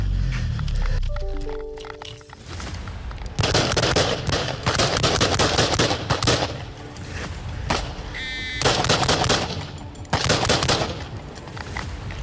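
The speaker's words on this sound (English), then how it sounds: "He's got a gun, he's shooting at us." Rapid bursts of gunfire crack through a police shootout, loud repeated volleys of shots in several clusters, with a siren-like tone and faint voices mixed in between.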